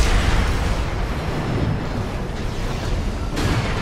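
Missiles in Armored Core 6 explode in a dense, sustained roar of blasts and rumbling debris, loud and continuous throughout, with a fresh burst near the end.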